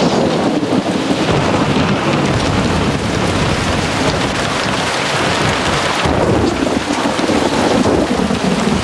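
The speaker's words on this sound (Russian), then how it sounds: "ужасный грохот от грома" Heavy rain pours steadily and loud throughout while thunder rumbles and cracks, a continuous wet roar with booming peaks during a storm at an outdoor survival-show camp.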